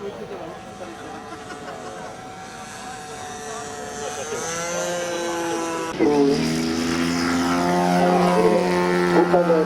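A model airplane's engine tows a glider into the air at a model airfield, a steady droning whine that rises in pitch and grows louder, with a voice talking over it throughout.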